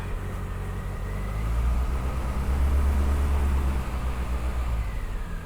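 MG Midget engine revving up after the choke is pulled back, a steady low rumble that swells in the middle and eases slightly, heard close and alone.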